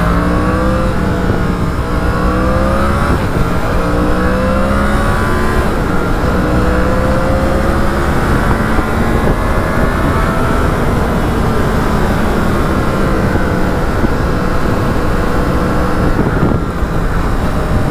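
A Yamaha MT10 SP motorcycle is ridden on the road, its engine note climbing and falling through repeated gear changes, loud and close, mixed with rushing wind and no voices.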